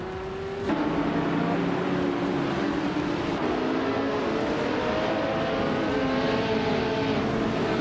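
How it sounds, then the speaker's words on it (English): Porsche 917 and Lola 70 race cars at speed on a circuit, a loud, steady engine drone with rising and falling whine as several cars rev together, with no voices over it. "The Porsche 917s are holding strong at the front, but the Lola 70s are hanging in there."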